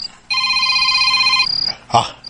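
A telephone rings in a radio drama, a steady electronic trill that sounds once loudly and then cuts off, followed by a brief rustle.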